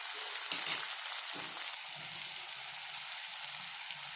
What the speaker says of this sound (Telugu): ఇవి ఫ్రై అవుతున్నాయి కదా